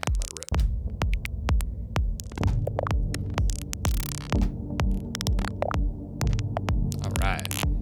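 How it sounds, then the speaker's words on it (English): Synth notes play in a steady rhythmic pattern through the Infiltrator 2 plugin, washed in reverb with echoing delay tails, a low throbbing pulse running underneath. "put it into the synth bus, and let it rip."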